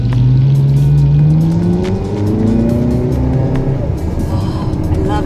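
A Ferrari driven on automatic accelerates as the driver applies throttle, its engine note rising in steady sweeps, loud and close, with people talking over it inside the car.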